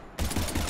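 Gunfire in the sci-fi video game Mass Effect 3, a brief, dense burst of rapid shots starting suddenly and continuing loudly for under a second.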